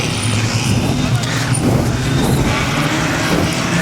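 Production sedan race cars at Rockhampton Speedway roar as the pack restarts racing, a dense steady engine rumble under an excited commentator's voice.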